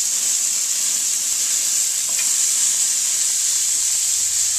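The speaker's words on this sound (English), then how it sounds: "Listen to that sizzle." Loud, steady sizzling of marinated pork chops on a hot grill, a constant close hiss with no talking.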